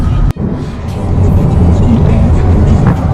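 A car rolls along a road with a loud, steady rumble of engine and tyre noise from inside the cabin, briefly interrupted by a knock near the start.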